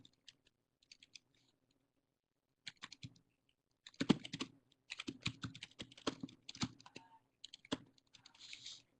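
Someone types a login on a computer keyboard: short irregular bursts of soft clicking keys, quiet and close, with pauses between bursts and no talk.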